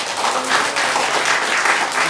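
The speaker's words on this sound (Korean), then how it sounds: "다시 한번 우리 바리톤 홍선선 형제님께 큰 박수 부탁드립니다." A church congregation gives a baritone singer a round of applause, a thick, continuous patter of many hands clapping at close range.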